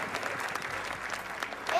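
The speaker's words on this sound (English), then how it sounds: "Let's give them all a real round of applause as we move on to the next group." Audience applause at a televised show, a continuous patter of clapping from a crowd, fairly even throughout.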